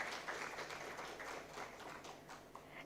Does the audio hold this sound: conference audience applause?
yes